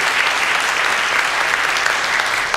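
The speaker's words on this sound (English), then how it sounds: "Y'all give her a round of applause for coming and sharing her story." A loud, dense round of applause from the audience at a panel discussion, steady and unbroken across the whole stretch, with no voices over it.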